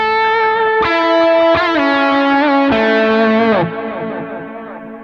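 Electric guitar with a dual delay effect plays a few sustained, ringing chords that change several times, each note trailing repeating echoes, loud and alone before fading slightly at the end.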